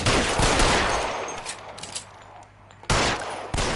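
Gunfire erupts in the L.A. Noire video game: loud bursts of rapid shots that fade to a lull, then two sharp new volleys near the end.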